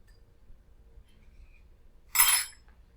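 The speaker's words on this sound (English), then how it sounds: "I'm going to pull out my leftover ice cubes and then see what my final temperature is." Leftover ice cubes are pulled out of a cold liquid during a heat of fusion lab, giving one short, bright burst of clinking against an otherwise quiet background.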